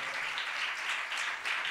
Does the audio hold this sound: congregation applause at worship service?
yes